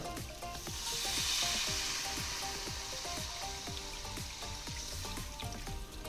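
Water poured into a pan of frying onions and potatoes for an egg omelette curry, producing a loud, dense hissing sizzle with bubbling pops, close and continuous.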